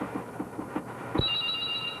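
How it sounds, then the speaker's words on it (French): A telephone ringing aboard the ship Jeanne d'Arc: a few soft taps, then a high electronic ring tone starting partway through and continuing steadily, close and moderately loud. "Ah, le téléphone sonne."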